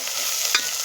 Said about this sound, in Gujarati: આપણે પાછળથી મરચાં એટલા માટે નાખ્યા છે કે તેલમાં વધારે બળીને કકડા થઈ જાય એટલે.